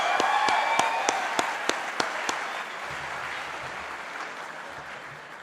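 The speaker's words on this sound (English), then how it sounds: "Can we have a round of applause for our amazing order today?" Applause at a university engineering faculty graduation convocation: a handful of distinct sharp claps open, then blend into a moderate, fairly distant wash of audience clapping that slowly fades.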